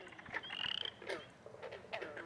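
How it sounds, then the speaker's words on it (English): A western chorus frog calling near a pond: a few raspy, creaking trills repeated in short bursts, fairly close and alone, with no talk. "the western chorus frog makes his sounds by stretching out the skin on his neck"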